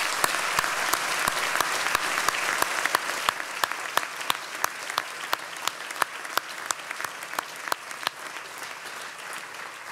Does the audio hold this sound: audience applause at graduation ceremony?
yes